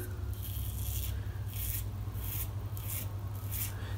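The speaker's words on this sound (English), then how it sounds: "Pass number 2, still against the grain, and this will be more of a slower shave now" A razor shaves a head against the grain on a slow second pass, giving soft rhythmic scraping strokes in repeated bursts about every half second, close to the microphone over a steady low hum.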